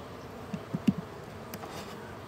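Honeybees at an open beehive during inspection, a soft steady buzz with a few brief closer buzzes as bees pass near, faint and continuous throughout.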